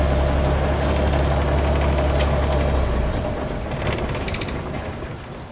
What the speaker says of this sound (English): when you shut it off, then it takes a while to shut off